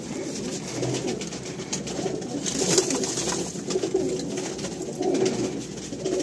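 Pigeons coo repeatedly in low, throaty murmurs in a loft, several birds overlapping continuously at moderate loudness, with faint rustling and wing sounds around them.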